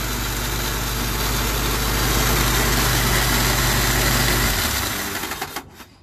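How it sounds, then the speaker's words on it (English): A Willys jeep engine runs with its starter stuck engaged, giving a loud, steady rattling drone with a constant low hum that cuts off near the end, leaving brief fading clatter. "Wow. It's rattling a bunch. I wonder if the starter's stuck on."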